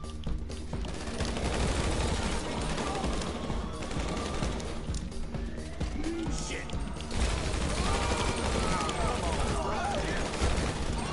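Dense rapid gunfire from rifles and machine guns in a casino heist video game, sustained bursts layered with mechanical clatter, loud throughout while people talk over it.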